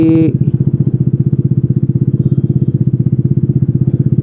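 An upgraded Vespa S125 scooter with a bored-up engine and lighter rollers idles close by in a rapid, steady throbbing putter, loud and even for a few seconds with no talk over it.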